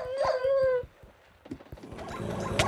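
Dogs in a video game set in a mansion: a rising howl opens, then a pause, then scattered yips and clatter under a rougher mix of noise.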